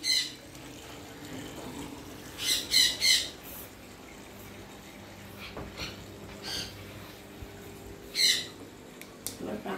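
Pet birds kept at home beside aquariums of flowerhorn fish, giving several short bursts of squawking over a low background hum, with quieter stretches in between.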